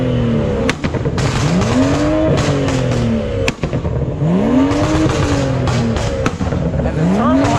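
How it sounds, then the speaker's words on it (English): At a car meet of BMWs and Mopars, an engine revs repeatedly in rising sweeps with sharp pops and crackles between them, loud and close, with a turbo flutter audible as the throttle drops. "Y'all hear that turbo? That turbo sound crazy. The flutter, that's what it is."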